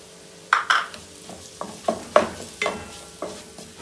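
Potatoes frying in a pan for a fenugreek-leaf masala parotta filling, with several sharp scraping stirs and clinks of a utensil over a soft sizzle, close and without talk.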